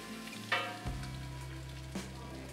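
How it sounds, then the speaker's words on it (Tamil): A boiled egg burji masala with chili powder paste is sautéed in a pan, giving a quiet, steady sizzle broken by a few stirring knocks and scrapes. "இன்னும் நல்லா வதக்கி எடுத்திருக்காங்க"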